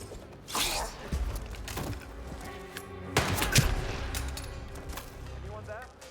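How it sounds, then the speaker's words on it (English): Gunshots in the video game Hitman, several sharp reports scattered across a few seconds amid game ambience and mechanical clatter, moderately loud, with voices speaking in between. "Guns are being fired."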